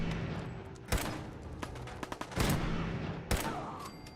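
Several sharp gunshots ring out in Fallout 4 over a busy, noisy background, with bursts spaced irregularly across a few seconds.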